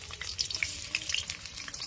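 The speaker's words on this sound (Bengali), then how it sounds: "আলুগুলো সিদ্ধ করে নিয়েছি, এবার ভেজে নেব।" Boiled potatoes frying in a pan of oil, a soft, steady sizzle with scattered sharp pops and crackles, close but fairly quiet, with no talking.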